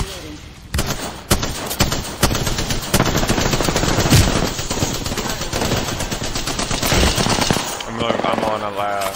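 Gunfire in the video game Apex Legends, loud bursts of automatic weapon fire and rapid shots crackling through a busy firefight, with brief game sounds near the end.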